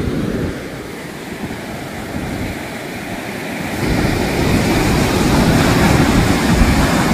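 Big ocean waves surge and crash at Timang Beach, a steady loud roar of surf that swells and grows heavier partway through, with wind buffeting close by and no talk.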